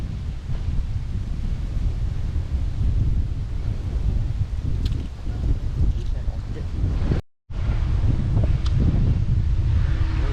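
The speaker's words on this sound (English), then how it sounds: "Very nice place, very windy at this time of the day." Wind rumbles and buffets against the microphone in a steady low roar, briefly cutting out, with faint talking under it, at Pasir Ris Park, Singapore.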